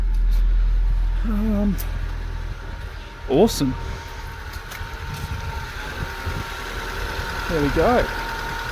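A 2003 Mitsubishi Lancer ES engine idles with a steady, low hum, close by, under a voice that talks over it throughout.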